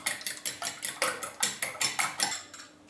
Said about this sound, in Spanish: he puesto 2 huevos en un recipiente y los voy a batir ligeramente